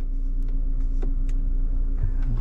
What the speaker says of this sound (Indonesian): perhatikan mobil sudah menyala halus sekali di dalamnya ya